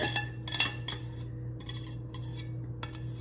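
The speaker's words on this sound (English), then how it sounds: "this is the rivets that you hear at the bottom of my skillet here" A metal utensil scrapes and clinks over the rivets at the bottom of a skillet while baked beans are made, producing bright, uneven rattling strokes in short clusters over a low steady hum.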